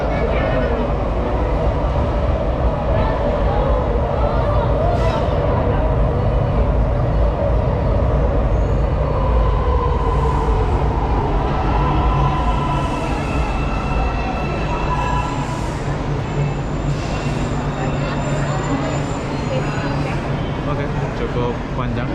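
A new MRT metro train rolls into an underground station in Putrajaya, Malaysia, with a steady loud rumble, rising whine and occasional wheel squeals echoing around the platform as it slows.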